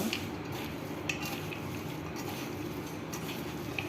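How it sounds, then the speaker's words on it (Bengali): Turmeric, chili powder and cumin powder being mixed in a bowl make a continuous soft scraping and stirring, with faint clinks, close by and without talk. "তো এটাকে আমি ভালো করে মিক্স করে নেব"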